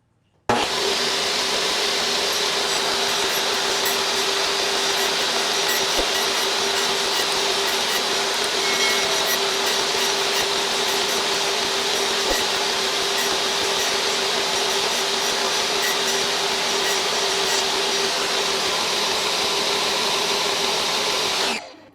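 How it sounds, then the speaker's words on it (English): A table saw or similar power saw runs steadily for about twenty seconds while making repeated dado cuts in wood, its loud whining drone constant from start to finish with the fence shifted between passes; no one speaks. "We'll make the first cut, adjust the fence by 1/8 of an inch, and keep repeating the cut until we get to 7 inches."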